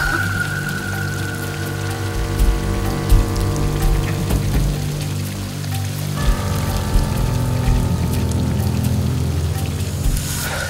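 Water falls continuously at a waterfall on a mountain, a dense steady rush like heavy rain, loud and close, with a low droning hum underneath throughout.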